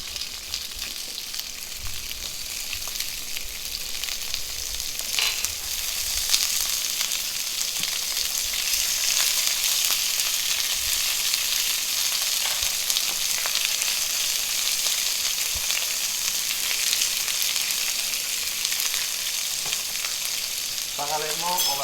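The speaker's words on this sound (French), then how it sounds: "C'est le meilleur procédé pour faire les asperges vertes, c'est les poêler. Voilà, maintenant on ajoute le beurre." Green asparagus pan-frying in butter, a loud continuous sizzle that holds steady throughout with faint stirring movements and a short clatter near the end.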